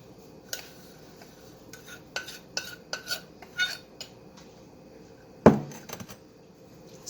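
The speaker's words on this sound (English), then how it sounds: "Stir it all in a little bit." A spoon stirs sugar and cornstarch into blueberry pie filling in a bowl, giving soft scraping with scattered clinks and taps against the side and one sharper knock near the end.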